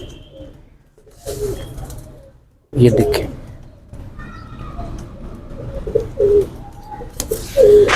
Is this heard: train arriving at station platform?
no